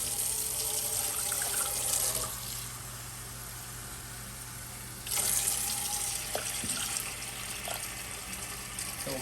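Tap water runs steadily into a pot being filled for rice, a loud continuous splashing rush that eases midway and then surges again, heard alone without talk.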